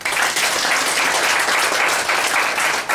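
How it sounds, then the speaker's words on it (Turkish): Sustained audience applause at a talk honoring the writer Yaşar Kemal, a loud dense wash of clapping from a full hall that holds steady throughout. "Ona uzun ömür dileyelim ve tatlı tatlı alkışlayalım yine."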